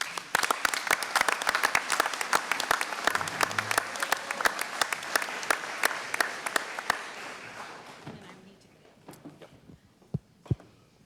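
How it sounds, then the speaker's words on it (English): An audience at the annual town meeting in Hatfield, Massachusetts gives a warm round of applause: dense, steady clapping that fills the room, then thins out and trails off to a few scattered claps. "So I would just like one more round of applause for Marlene."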